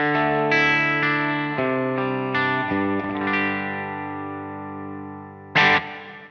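Sustained electric guitar chords through a Boss IR-200 amp simulator pedal ring out with a processed, slightly distorted tone and roomy reverb, struck several times, ending with a brief brighter strum.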